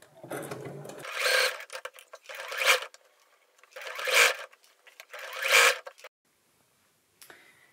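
A sewing machine stitches a blouse in four loud, close bursts of rapid whirring, each a second or so long and separated by short pauses, with a faint voice at the start.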